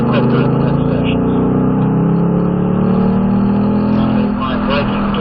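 A car engine drones loud and steady on a race track, its pitch rising gently as it accelerates, with someone talking over the engine noise.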